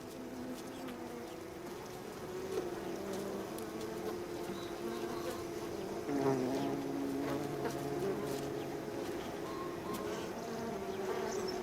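Bees buzzing around flowers in Sicily, Italy, a steady, close, droning hum that lasts throughout with occasional louder passes and no speech.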